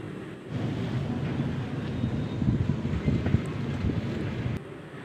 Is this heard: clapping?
no